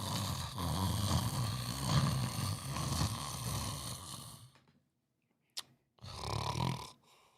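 A wrestler in the ring imitates snoring, giving a few long, raspy drawn-out snores up close, then a brief silence and a short sharp sound before another snore.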